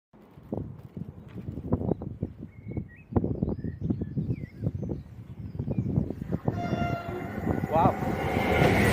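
A CrossCountry Class 221 train, unit 221129, running through Berkswell on the West Coast Main Line: rhythmic clattering of wheels over rail joints close by, then a horn sounds as it passes.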